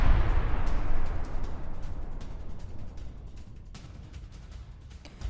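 A fuel tank explodes in Iraq with a loud, low, booming roar that starts strong and slowly decays over several seconds, with a rumbling tail.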